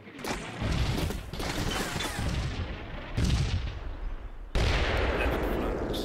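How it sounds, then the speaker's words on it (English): Sustained battlefield gunfire and artillery-like bursts in the tactical wargame Combat Mission Shock Force 2, a dense continuous barrage with heavier thumping impacts surging near 3 and 4.6 seconds, no talking. "Center scouts take fire from unseen enemy."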